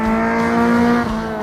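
A car engine revs hard with a steady, sustained growl, loud and close, holding at high throttle before dipping slightly near the end.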